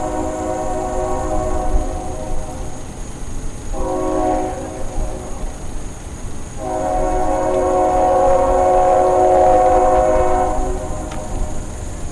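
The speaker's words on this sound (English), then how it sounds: "Anyway, we have a train. We'll just take a minute to have some peace with the train. Let them roll by." A train rolls by nearby, with a steady rumble of wagons on the rails under two long, loud horn blasts, the second held several seconds, then the rolling noise continues alone.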